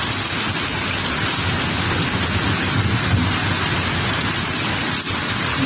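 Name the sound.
heavy rain with thunder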